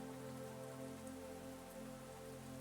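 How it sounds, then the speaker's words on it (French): Light rain falls steadily at a Finnish spa, a soft, even patter that carries on alone without pause. "La pluie tombe toujours,"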